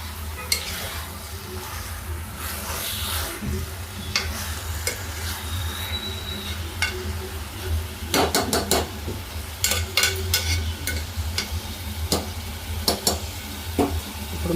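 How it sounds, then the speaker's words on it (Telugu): Andhra-style mutton curry with ginger, garlic and onions being stirred in a pot, with a steady sizzle underneath and scattered metallic scrapes and clinks of the spoon, close and continuous. "అల్లం వెల్లుల్లి ఆనియన్స్ మొత్తం అంతా బాగా కలవాలండి,"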